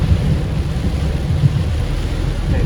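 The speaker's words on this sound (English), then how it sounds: "It's raining so hard." Heavy rain pours down around a car on the road, a loud, dense, unbroken roar of drumming water with a deep rumbling undertone throughout.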